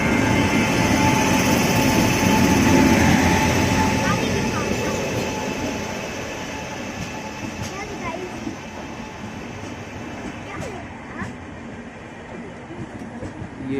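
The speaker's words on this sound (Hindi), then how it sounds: "सो गाइस आप लोग देख रहे हैं मालवा एक्सप्रेस की क्रॉसिंग।" The Malwa Express superfast train rushes past at a crossing, a loud sustained rumble of wheels and carriages that slowly eases, with people talking nearby.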